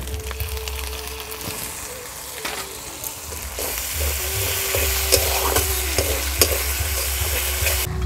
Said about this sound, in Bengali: এবার টমেটো বেটে রেখেছি সেইটা দিয়ে দেব।